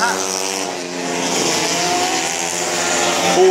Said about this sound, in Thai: มีการแซงเข้าโค้งนะ